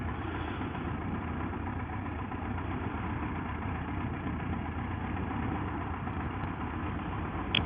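A motorbike engine idles steadily while warming up, a continuous close low rumble with an even throb and no talk over it.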